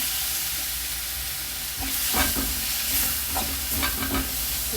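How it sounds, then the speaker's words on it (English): Onion, salt and mixed spices stir-fry for a salmon fish bun filling, giving a steady, close sizzle with repeated scraping stir strokes and no talk. "Mix it and add the salmon. Mix it well."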